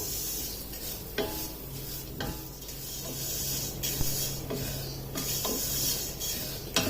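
Vermicelli sizzles in ghee in a pan as a spoon stirs and scrapes against metal, giving a close, steady crackle punctuated by sharp utensil clinks.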